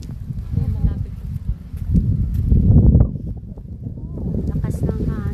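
Strong wind buffets the microphone in low, rumbling gusts that swell in the middle, with a voice talking briefly under the roar.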